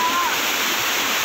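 Fast-flowing water in a canal where people bathe, a loud continuous rushing and splashing roar filling the whole moment.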